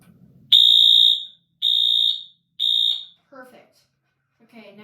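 Two Wheelock AS fire alarm horn strobes sound together in three loud, shrill, evenly spaced blasts, each lasting under a second, followed by brief voices.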